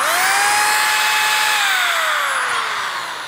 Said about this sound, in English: Now, even though this is a drill, it's got a two-prong outlet, so we'll just stick that into the adapter.